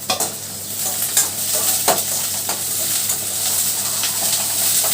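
Garlic and onion frying in hot sesame oil for a Chettinad-style fish curry, a steady bright sizzle with a few stirring scrapes and clinks, close and alone.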